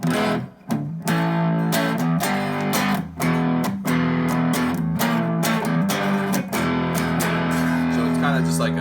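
An electric guitar plays sustained chords through a Soul Food boost pedal with a lightly fuzzy, overdriven tone, loud and close, with brief gaps between strums.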